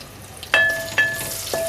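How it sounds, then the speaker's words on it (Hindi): Finely chopped onion frying in half a cup of hot oil on a stove, a low sizzle broken by three sharp metallic clinks of a spoon against the pan, each ringing briefly, no talk. "और इसको थोड़ा सा फ्राई करेंगे।"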